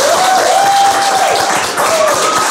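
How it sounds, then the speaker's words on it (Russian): A studio audience at a Russian TV quiz show claps steadily throughout, a dense, close wash of applause with a sustained tone and music ringing above it. "Давай представлять участников под ваши аплодисменты"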